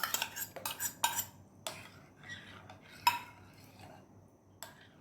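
A metal spoon clinks and scrapes against a pot while milk and yogurt starter are stirred together, loud sharp taps early and then softer, sparser scrapes, close by with no voices.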